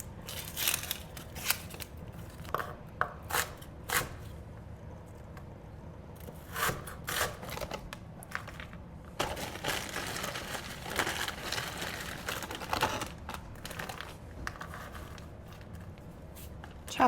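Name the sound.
chopping onion and frozen peppers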